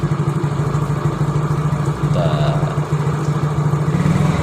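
A motorcycle with a battery-charging fault idles close by in a steady, throbbing chug, its revs sagging rather than rising when throttled, while someone talks over it throughout.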